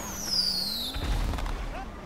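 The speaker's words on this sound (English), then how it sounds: "Don't shoot me with a firework." A firework shot in a video game, a rising whistle that sweeps downward before a dull burst and crackle, close and fairly loud, all within about two seconds.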